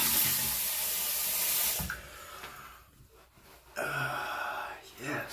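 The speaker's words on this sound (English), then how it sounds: "Let me get rinsed off." Tap water runs strongly into a sink for a couple of seconds while someone rinses off after a shave with a budget shavette, then stops and is followed by fainter splashing and handling sounds.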